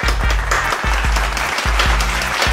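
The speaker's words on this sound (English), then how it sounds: "Everybody give her a round of applause." Applause fills the clip, a dense patter of clapping hands with steady low tonal sounds underneath, lasting a few seconds.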